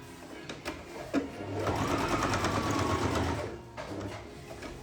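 A sewing machine stitches fabric for a pie carrier bag, with short bursts at the start and then a steady run of about two seconds that stops near the end.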